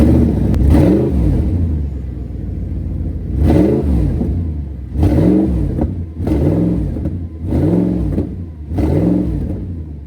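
A damaged Audi R8 Quattro's engine fires up and is revved hard repeatedly: five or six loud, deep rising-and-falling revs, each about a second long, separated by a throbbing idle, close by with no talking.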